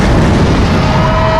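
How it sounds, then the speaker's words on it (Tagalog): Loud, dense cartoon explosions in an animated short, a continuous booming roar filling the whole moment with no speech. "Lumabas lang siya, sumabog na lahat."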